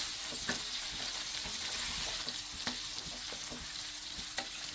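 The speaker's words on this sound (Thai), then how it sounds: "ค่อยๆทอดไปเรื่อย ๆ ตอนนี้แหละครับเชฟว่าพอเหมาะดีแล้วนะครับ" Chicken cartilage deep-frying in palm oil, cooked with garlic, makes a low, continuous bubbling sizzle with scattered small pops.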